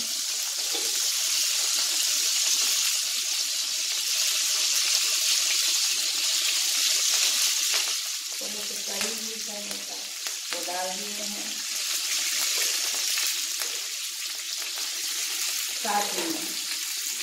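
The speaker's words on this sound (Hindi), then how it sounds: "इसके बाद मैं इसमें थोड़ी सी राई डाल रही हूँ।" Mustard seeds sizzle in hot oil for a spring onion dry vegetable dish, a steady close frying hiss that runs throughout while someone talks briefly over it.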